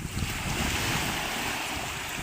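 Sea waves and wind on a cold beach, a steady broadband rush of surf with wind buffeting the microphone, fairly close and continuous for a couple of seconds with no voices.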